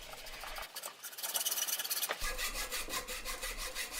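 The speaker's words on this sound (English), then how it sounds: "Hours of sanding." A wooden pepper mill is sanded by hand in quick back-and-forth rasping strokes, close and fairly quiet, with a rhythmic scratchy texture that speeds up into a fast series of short rubs.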